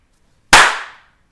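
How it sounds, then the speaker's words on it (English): A single sharp hand clap in a room of a house, loud and close, followed by a short smooth decay into silence. "I clap my hands. Wow, my house actually sounds pretty good."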